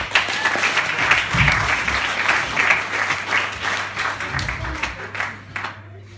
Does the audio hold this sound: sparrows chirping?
no